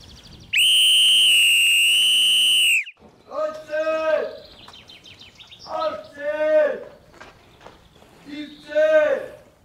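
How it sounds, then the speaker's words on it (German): A single loud, piercing whistle blast lasting about two seconds signals the boys to line up, followed by someone talking in bursts. "Wenn es pfeift, bleiben uns 20 Sekunden."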